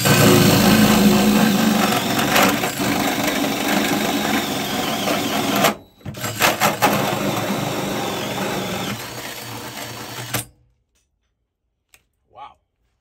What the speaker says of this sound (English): the trusty DeWalt electric drill. This is gonna be sparks flying and metal flying